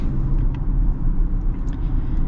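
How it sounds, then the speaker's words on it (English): Steady low road roar from large all-terrain tires rolling on pavement, heard from inside a moving modified 2024 Ford Ranger, constant and moderately loud with no talking. "You do get a little bit more tire noise than what you'd get with stock"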